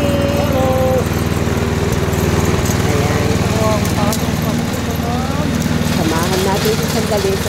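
A petrol lawn mower cuts grass in a home garden, its engine droning steadily and loud throughout with slight load changes, while people talk over it.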